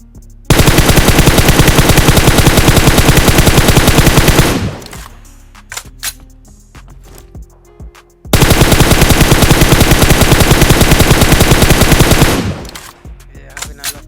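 Two long bursts of rapid automatic rifle fire in PUBG Mobile ring out loud and close, each spray lasting about four seconds, separated by a quieter stretch of scattered in-game sounds.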